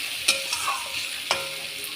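Snake gourd frying in a hot pan, a steady soft sizzle broken by two sharp scrapes of a spatula stirring, close and alone with no talk.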